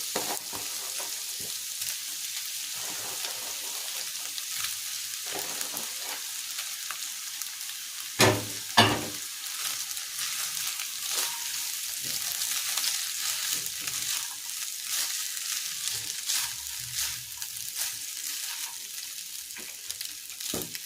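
Precooked rice fries in a pan for fried rice, a steady close sizzle with scraping stirring strokes throughout and one brief louder clatter partway through.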